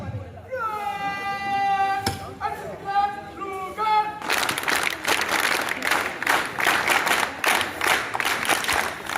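Audience applause welcoming a singer at a Republic Day event at Murarka college in Sultanganj: after someone speaks over a microphone, dense, steady clapping from a large crowd erupts and continues loudly.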